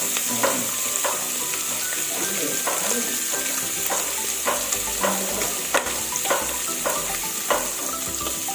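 Meat for pansit bato fries in a pan with steady close sizzling, punctuated by repeated sharp pops and stirring scrapes about every half second to second.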